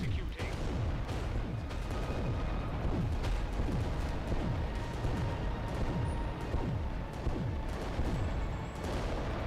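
Titan war machines firing all their weapons in the Adeptus Titanicus Dominus video game: a dense, continuous barrage of booming artillery-like blasts and rumbling impacts, loud and layered without pause.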